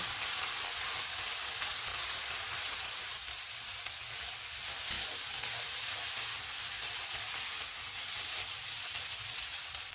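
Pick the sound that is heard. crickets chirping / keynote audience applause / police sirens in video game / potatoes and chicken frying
potatoes and chicken frying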